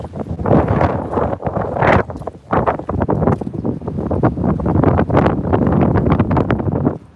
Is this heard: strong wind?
yes